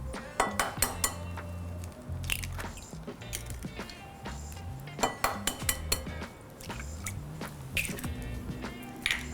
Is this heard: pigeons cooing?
no